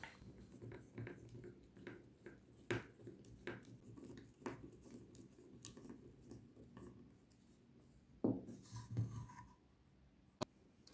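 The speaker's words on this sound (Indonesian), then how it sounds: "gunakan obeng kecil dan skrup yang kecil supaya nanti tidak memecah" A small screwdriver turns small screws into round wooden parts of a homemade turntable, giving faint scraping, creaking twists and occasional sharp ticks, close and intermittent in a quiet room.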